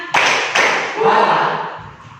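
Two sharp, close hand claps in quick succession open a classroom rhythm exercise at a vocational school, followed by a softer, blurred wash of clapping that fades out.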